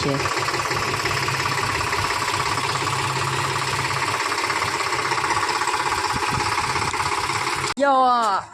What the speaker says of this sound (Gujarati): જો આપણું ટ્રેક્ટર જાય.